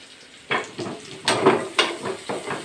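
Thin carrot strips drop into hot oil in a pan, setting off several short bursts of sizzling with some clatter of a utensil, close and fairly loud with pauses between.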